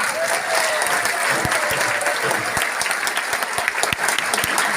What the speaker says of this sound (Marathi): जोरदार टाळ्या वाजवा, हात वर करून टाळ्या वाजवा